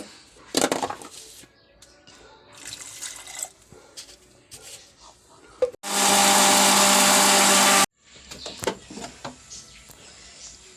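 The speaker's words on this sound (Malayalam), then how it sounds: "നമുക്ക് നാളികേരം അടിച്ചെടുക്കാം" Coconut is ground in a mixer grinder for a Kerala dal and drumstick curry. Quiet kitchen clatter and a splash frame a loud, roaring motor burst lasting about two seconds that stops sharply.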